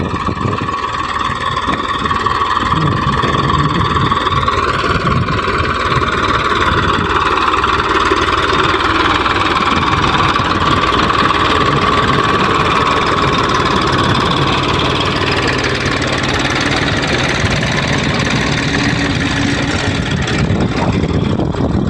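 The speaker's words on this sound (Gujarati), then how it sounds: "ટ્રેક્ટર હાલવાનું હાલે" A tractor engine runs steadily on a farm, with a loud, constant mid-pitched drone and a faint whine that shifts in pitch. It sounds close and carries on without a break, with no talking.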